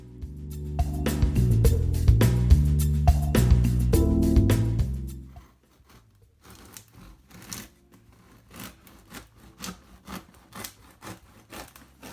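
A knife saws through a cooled loaf of homemade sourdough with a crusty, rasping rhythm of strokes for about five seconds. Softer, scattered crumbly scraping and taps follow.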